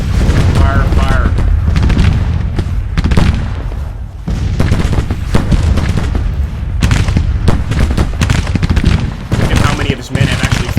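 Dense, continuous battle din from Grand Tactician: The Civil War, with rolling musket volleys and booming artillery fire layered into a loud, unbroken roar, punctuated by sharper cracks and swells throughout.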